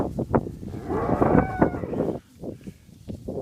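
Ranch cows and their calves, Angus and Brahman-cross stock in Boling, Texas, moo and bawl repeatedly at close range, with overlapping drawn-out calls and fainter lows between them.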